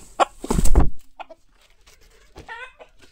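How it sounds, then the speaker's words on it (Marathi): A multicoloured rooster gives a few loud, close clucks and short calls, separated by a quiet pause, with a brief higher, more tuneful call near the end. "हा मल्टी कलर कोंबडा"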